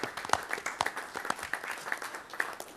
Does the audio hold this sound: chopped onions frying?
no